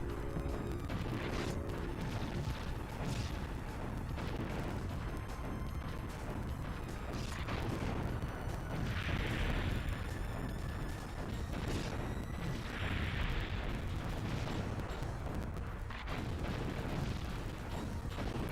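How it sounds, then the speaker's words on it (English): Homing missiles firing and exploding in a PS1 game: repeated booms and blasts over a dense, rumbling mechanical game din, with whooshing bursts partway through, moderately loud throughout and no talk. "And these homing missiles are nice."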